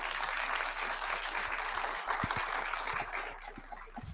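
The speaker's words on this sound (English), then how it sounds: "let's give them one more round of applause" An evening event audience applauds, a fairly quiet, distant and steady wash of clapping in a room, with a few low thumps scattered through it and a louder burst at the very end.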